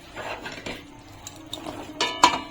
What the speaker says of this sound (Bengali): এখন এটাকে নাড়াতে হবে। এখন নাড়িয়ে যাব, থামানো যাবে না